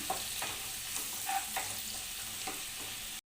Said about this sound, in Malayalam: ഇനി ഇത് നല്ലപോലെ ഒന്ന് സോട്ട് ചെയ്തെടുക്കാം.